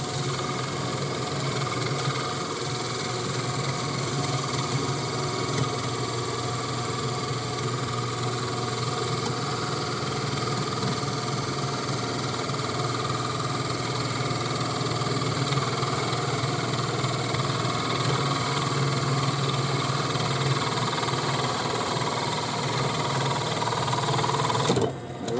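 A lathe parts off the cone of a wooden duck call, producing a steady, continuous machine hum and vibration with a faint cutting texture, loud and close for the whole stretch.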